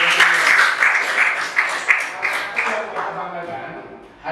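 A group claps enthusiastically in a session, with loud, dense applause that slowly fades out and has talk mixed in.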